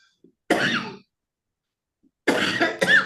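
A person at an indoor training session coughs twice, a single harsh burst followed after a pause by a pair of quick coughs, close and clear against otherwise silent surroundings.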